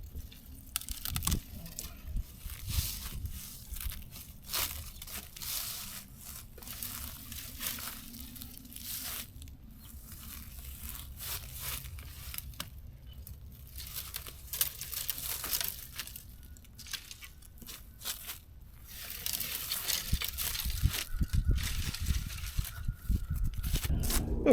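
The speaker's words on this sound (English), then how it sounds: "I'm basically going to cut most of this bush out, so that the new stuff coming off the bottom has a place to go." Pruning shears cut old limbs out of a blueberry bush outdoors; steady snipping, snapping and crackling of woody branches with rustling foliage, fairly faint, with no talking.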